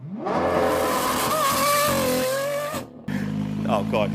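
A Porsche GT3 RS flat-six engine revs high and loud with a rising, sustained howl, drops off abruptly, then returns at a lower idle with a burble; voices are audible in the background.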